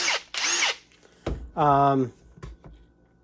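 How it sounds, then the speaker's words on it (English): A Ryobi ONE+ HP 18V brushless cordless compact drill's motor gives short, close whirring bursts, including a brief rising whine as it spins up and cuts off. "nice sounding brushless motor"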